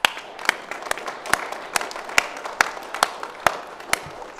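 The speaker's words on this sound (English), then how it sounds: "we're going to give applause to all these moms right here" Applause for mothers at a gathering, a handful of people clapping in a loose, fairly even rhythm of distinct sharp claps about twice a second, near and moderately loud with no speech.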